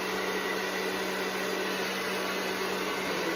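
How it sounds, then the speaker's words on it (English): A hair dryer blows steadily at close range, drying setting spray on a face: a constant whooshing roar with a motor hum, continuous and unbroken throughout. "Sometimes I take the hairdryer to dry the setting spray"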